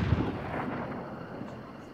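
Gunshot in the game Hunt: Showdown, a single sharp boom at the start followed by a rolling decaying echo.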